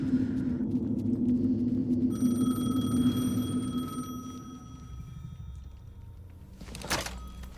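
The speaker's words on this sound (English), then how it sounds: "The phone again." A telephone rings with a high, tonal bell that starts partway through and overlaps a low rumble and thuds, followed by a short sharp burst near the end.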